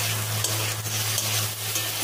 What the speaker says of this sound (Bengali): এখন সব সবজি হাই ফ্লেমে ভালো করে ভেজে নেব